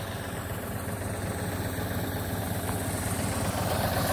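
A John Deere 5045 D, a 45 hp 4x4 tractor, runs steadily as its PTO drives an agricultural spray tank in a field, giving a continuous close engine drone with a constant low hum throughout.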